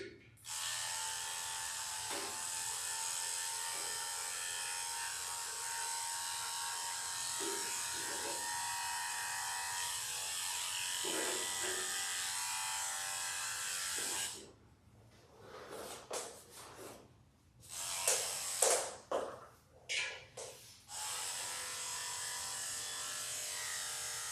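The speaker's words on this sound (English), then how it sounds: "with our 10 blade, go ahead and shave the inside of her ears" Electric dog clippers with a 10 blade buzz steadily while shaving the inside of a Goldendoodle's ears, a continuous close hum for about fourteen seconds, then broken into short on-off bursts and pauses.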